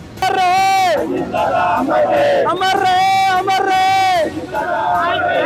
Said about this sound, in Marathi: राष्ट्रवादी काँग्रेसच्या कार्यकर्त्यांनी अजित पवार अमर आहे या घोषणा देत जल्लोष केलाय